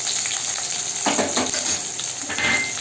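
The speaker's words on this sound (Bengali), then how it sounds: "দিয়ে সুন্দর করে আমি লাল লাল করে এগুলোকে ভেজে নেব একসঙ্গে" Whole cumin, green chilli and chopped onion fry together in a hot pan, a close, steady sizzle with a few brief bursts of louder crackle as the pieces are stirred, and no voices.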